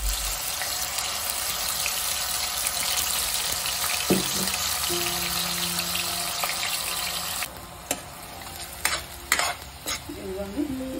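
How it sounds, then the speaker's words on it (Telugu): Mutton curry spice paste frying in a pan over medium flame, a steady hiss and sizzle with occasional stirring scrapes and clinks close by, and a brief tonal hum midway, no speech. "పెట్టుకొని ఇట్లా వేగుతూ ఉంది కదా"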